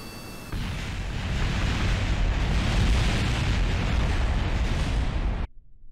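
A rocket plane breaks apart in the Kerbal Space Program game: a loud, sustained roaring blast of rumbling destruction noise that holds for about five seconds, then cuts off sharply.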